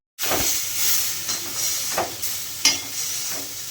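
Sliced pointed gourd fries in a hot pan for doi potol, a continuous close sizzle and hiss with a few brief stirring scrapes and pops, no voices.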